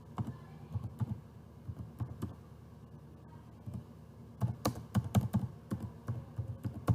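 Someone types on a computer keyboard in irregular bursts of soft, close key clicks, sparse at first and then quicker and denser toward the end.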